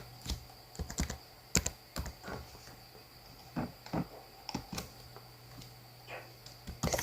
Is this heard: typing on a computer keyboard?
yes